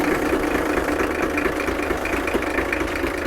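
The engine of an abandoned Dodge truck, left 28 years in a French wood, churns and rumbles continuously at close range, a loud, rough, even mechanical drone with no voices.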